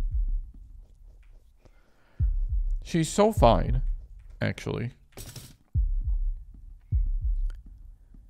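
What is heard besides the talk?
God of the Depth heartbeat in video game Fear & Hunger 2: Termina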